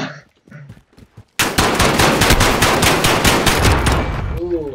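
Sustained rapid automatic gunfire in a 2v2 Call of Duty gunfight erupts loudly and continues for several seconds after a few quiet moments of speech.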